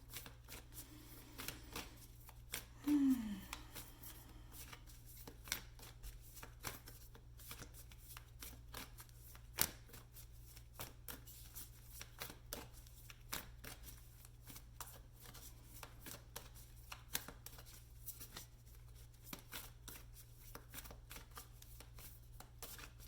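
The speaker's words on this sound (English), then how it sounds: "This is why I didn't shuffle the tarot cards on camera." Soft, continuous shuffling of tarot cards with quick papery flicks and taps, close and quiet, over a low steady hum.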